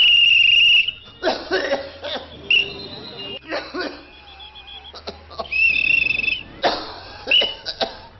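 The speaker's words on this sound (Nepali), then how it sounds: "मान्छेले यसरी लगातार खोक्न थाल्नुमा कति भयो?" Someone coughs in several separate harsh bursts with short pauses between them, over a thin, steady high-pitched insect-like chirping.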